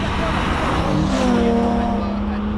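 BMW M3 E30 fitted with an S50B32 engine swap driving, its engine droning steadily and loudly from inside the cabin, pitch rising and settling into a sustained tone.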